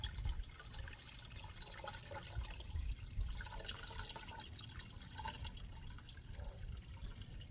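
Water drained off wild clay slurry to remove as much liquid as possible, a faint, steady trickle with soft drips under low background noise, with nobody speaking.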